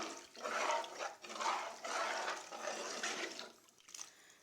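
Water sloshing and swirling in a pot of rice and dal as it is stirred, steady liquid churning that fades toward the end.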